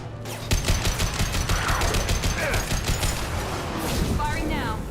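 Rapid gunfire in the video game Mass Effect 2 Legendary Edition, a dense volley of sharp shots rattling for several seconds, loud and close, with short voiced game chatter mixed in.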